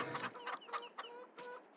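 A rooster in a farming video game gives a quick series of close, clear clucks, five or six short squawky calls in rapid, uneven succession, heard alone without speech.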